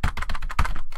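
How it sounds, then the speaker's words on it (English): Computer keyboard keys pressed rapidly during a League of Legends match, a close, loud run of clattering clicks in a steady irregular rhythm with no voice over them. "otherwise you're gonna hear me pressing"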